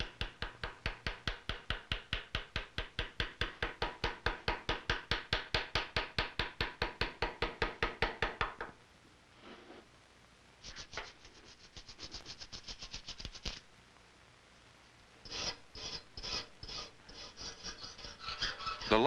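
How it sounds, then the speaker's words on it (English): Hand engraving of a colonial gun part with a V-shaped engraver: a fast, even train of sharp tapping cuts for several seconds, then pauses and shorter scraping bursts, close and quiet, with no speech. "The majority of the engraving is done with the V-shaped engraver"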